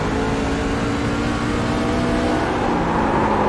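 A race truck's engine roars loudly and steadily at Lucas Oil Raceway, then the pitch shifts slightly as the driver brakes and lifts off the throttle, with no voices over it.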